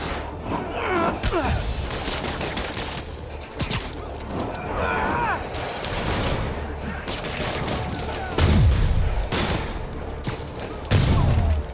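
Gunfire from enemy grunts in a Spider-Man video game, several sharp bursts and heavy booming impacts scattered through the clip amid game action, with occasional speech underneath.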